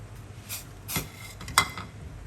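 A spoon stirs a pot of broth for Lao-Isan jaew hon hot pot, with a few soft scrapes and clinks against the pot over a low, steady background hiss.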